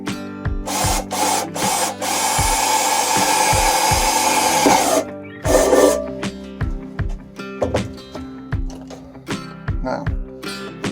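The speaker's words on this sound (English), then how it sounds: "I'm just going to try to drill out a small hole" A power drill whirs steadily for a few seconds, drilling a small hole in a metal can, then stops amid clunks, taps and handling noises nearby.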